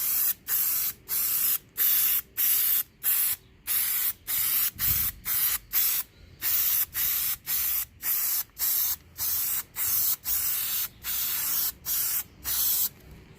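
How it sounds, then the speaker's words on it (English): An aerosol can of spray adhesive sprays in repeated short hissing bursts, about two dozen evenly paced blasts with brief pauses between, close and fairly loud. "you're gonna just spray some on there."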